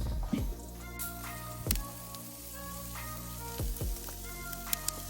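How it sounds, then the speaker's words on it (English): Steady crackling sizzle of meat on a hot grill, with a few sharp clanks and scrapes of tongs or grates popping through. "let's get the chicken on the grill. You hear it sizzling already?"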